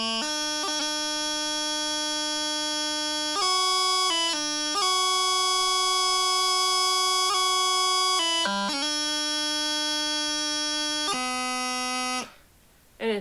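A bagpipe practice chanter plays the opening line of Amazing Grace, a series of reedy, sustained melodic notes with brief breaks between phrases, loud and close, with no talk.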